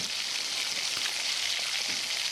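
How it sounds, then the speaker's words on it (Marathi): Steady, dense sizzling of onion bhaji fritters frying in hot oil in a kadhai, a continuous crackling hiss with no voices. "आपण कढईमध्ये भजी तेलामध्ये तळून घेऊया"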